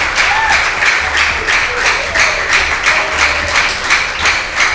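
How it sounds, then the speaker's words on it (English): Students at a Nigerian school debate and quiz event applaud together in a dense, steady wash of clapping that holds at an even level throughout. "Clap for yourself for being here as a student."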